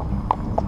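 Horse hooves clip-clopping along a bridle path, two distinct hoof strikes standing out close by over a steady background rumble.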